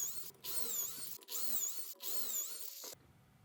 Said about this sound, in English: drilling the pocket holes in the 2 boards for my shelves